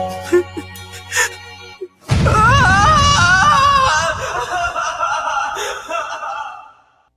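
A character in the Phoenix Wright: Ace Attorney - Dual Destinies video game lets out a long, loud, wavering scream that swells after a quiet musical opening and then fades under game music.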